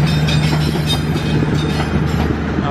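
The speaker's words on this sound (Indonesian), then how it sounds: "Nah, ini dia ada kereta makan dan K3-nya nih, livery baru ya." Passenger train with a dining car and new-livery executive coaches rolling into Bandung station, a loud, close rumble of wheels and carriages with faint squeal, no voices.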